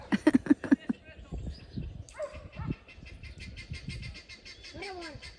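A dog barks in short yips and bow-wows, loud at first and then scattered, in a vaquejada arena during training, while an announcer's voice carries over the arena's background noise.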